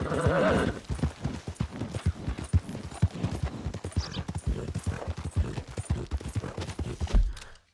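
A horse ridden in the video game Red Dead Redemption 2 clip-clops in a quick, steady gallop with a whinny near the start, loud and close, with game ambience and no speech.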